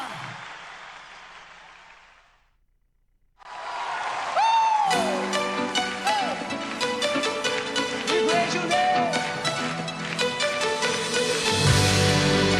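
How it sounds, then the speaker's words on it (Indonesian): Applause from a church congregation at a worship service, a brief burst of dense clapping that fades into a short silence before loud music begins. "tepuk tangan yang terbaik hanya buat Allah kita"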